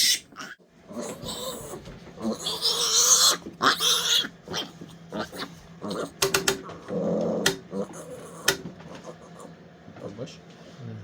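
Three-day-old piglets squeal in sharp bursts on a pig farm while tools work on them, loud close cries mixed with a person talking.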